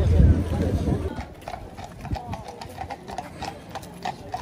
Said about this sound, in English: Police and horses.